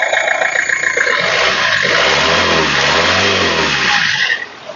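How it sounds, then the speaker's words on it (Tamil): A used car at a dealer's lot, started with a single crank, runs with a steady, smooth mid-pitched engine drone up close, rising slightly in a gentle rev before cutting off at the end. "ஒரு கிராங்க் தான் வண்டி ஸ்டார்ட் ஆயிடுச்சு எவ்வளோ ஸ்மூத்தாக ஓடிட்டு இருக்குன்னு கேட்குறேன்"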